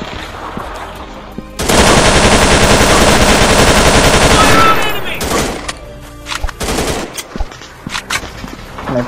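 Sustained loud automatic fire in a first-person shooter game, a dense burst of about three seconds followed by scattered single shots and clatter, with players chatting around it.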